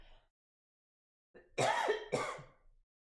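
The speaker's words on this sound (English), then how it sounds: "my throat ain't been itching and I ain't been coughing" Two harsh coughs in quick succession, close and fairly loud, after a brief quiet stretch.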